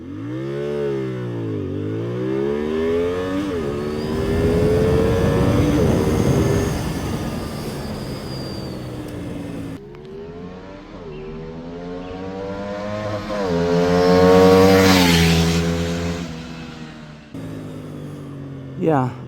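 A 2024 CFmoto 450 SR TC motorcycle launches hard from a standstill, its engine climbing through rising revs with distinct gear shifts, loud and close, then easing off before a brief final burst.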